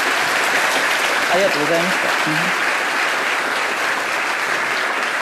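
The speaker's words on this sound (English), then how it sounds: "send a big applause to the Dr." An audience gives Dr. Mahathir a big round of applause, dense and loud throughout, while a voice speaks briefly over the clapping.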